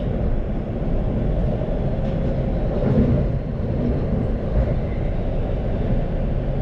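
Steady low rumble and rolling hum inside a Bangkok MRT Blue Line train running between Tha Phra and Tao Poon, continuous and fairly loud with no voices.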